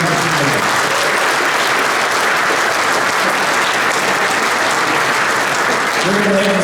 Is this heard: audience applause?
yes